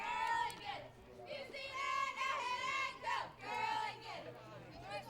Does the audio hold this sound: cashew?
no